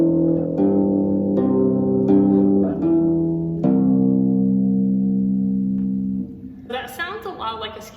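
Electric bass playing an arpeggio, each note plucked one at a time and left to ring in a clear, stepwise pattern. The playing is loud and alone, and a short burst of voice comes in right at the end.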